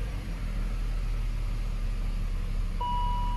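A BMW 525i engine, freshly fitted with new spark plugs and a cleaned MAF sensor, idles with a steady low rumble and broadband hiss; a faint thin tone appears near the end.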